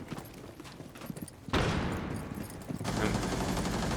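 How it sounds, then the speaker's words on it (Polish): Bursts of video game gunfire from an online shooter, a dense rattling volley cutting in sharply and running continuously to the end, loud and close with a brief shift partway through. "Ktoś strzela chyba, co?"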